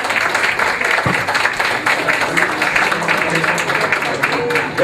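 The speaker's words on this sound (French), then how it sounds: "Merci pour les applaudissements" Audience applause fills the room at a casting for a petite beauty pageant, a steady dense wash of clapping that carries on throughout with crowd murmur mixed in.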